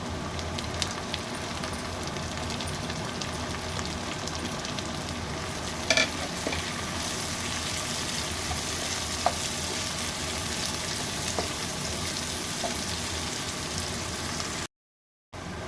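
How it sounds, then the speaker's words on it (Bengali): Steady sizzling of onions frying in a hot pan, a continuous crackling hiss with a few louder pops, no voices. "এবার আমি 3টে পেঁয়াজ কুচি কুচি করে নিয়েছি, এর মধ্যে এগুলোও দিয়ে দিলাম।"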